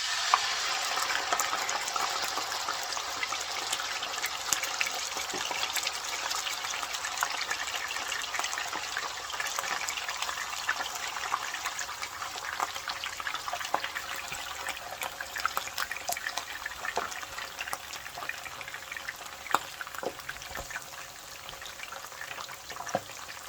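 Milkfish (bangus) frying in hot oil in an electric skillet at 400 degrees Fahrenheit, a steady, close hiss and crackle of sizzling that runs unbroken with scattered popping spatters.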